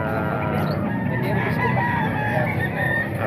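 Roosters and hens among fighting cocks for sale at a busy market in Calumpit, with crowing and clucking over dense crowd noise and people talking nearby.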